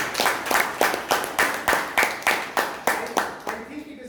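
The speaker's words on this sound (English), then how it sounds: "A huge round of applause for that." Rhythmic group clapping at a Toastmasters club meeting: about fourteen evenly spaced, close, sharp claps in a steady beat, fairly loud, with no talking over them.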